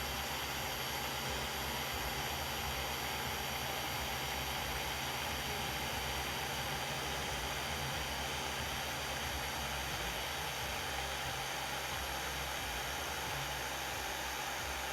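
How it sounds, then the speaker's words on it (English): An orbital polisher fitted with an orange cookie-cutter cutting pad runs steadily with light hand pressure, spreading a nano abrasive cutting compound; a constant, even whirring hiss fills the whole stretch with no talk. "I don't have a ton of pressure on the polisher. I'm just guiding it with my hand."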